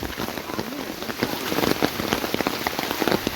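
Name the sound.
heavy rain falling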